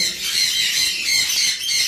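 A white-faced fawn cockatiel in a breeding setup gives a steady run of loud, harsh, close-up squawking calls, repeated in quick pulses with no talk.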